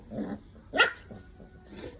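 A dog growls while chewing on a bone, giving a few short rough growls and a sharper snarling burst near the middle, close by with no talking.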